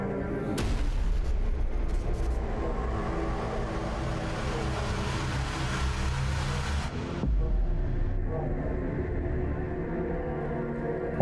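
A huge explosion in The Eternal Cylinder video game as the world and the cylinder are blown up: a sustained, loud roaring blast that cuts off abruptly, then a lower rumbling aftermath follows.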